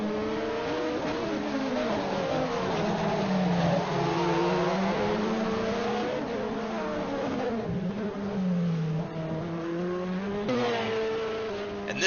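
LMP2 race cars, a Mazda and an Acura, run in a Le Mans racing video game, their engines droning and whining in overlapping pitches that rise and fall as they shift, steady and continuous.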